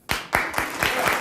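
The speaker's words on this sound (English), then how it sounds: "that's just applause" A studio audience breaks into applause, a brief burst of several sharp claps merging into a dense patter over about a second.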